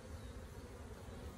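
A honeybee colony from a newly installed three-pound package drones with a steady, close, faint buzz throughout an open hive inspection, with no talk.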